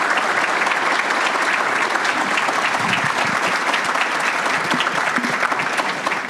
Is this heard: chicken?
no